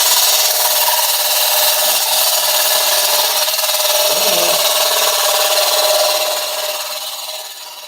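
A wood lathe trims a fresh, previously unused turned wooden piece, giving a steady, bright, hissing scrape that holds evenly for several seconds before easing off slightly at the end, close and with no voices.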